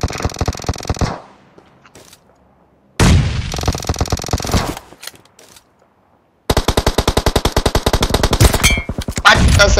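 Rapid automatic gunfire in a video game squad battle, loud close bursts of machine-gun shots separated by short silent gaps, with a long sustained burst at the end.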